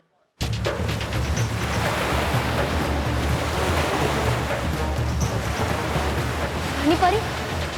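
Surging ocean waves in a fantasy fairy-realm scene, rushing and churning steadily and loudly throughout with a windy roar, as if floodwater is overwhelming the land.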